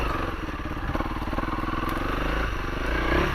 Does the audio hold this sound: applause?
no